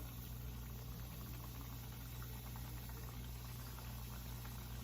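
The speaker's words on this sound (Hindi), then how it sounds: "अभी ऑयल गर्म हो गया है, इसके ऑयल के अंदर ये डाल रहे हैं।" Sweet mathri dough pieces frying in hot oil on a stove, a steady dense sizzle and bubbling that holds evenly throughout, close and fairly quiet with no talk.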